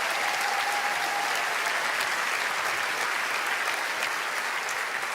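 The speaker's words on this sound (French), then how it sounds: "Un tonnerre d'applaudissements pour Kevin" Thunderous applause from a large comedy festival audience, a thick, even wash of clapping that holds steady the whole time with no voices breaking through.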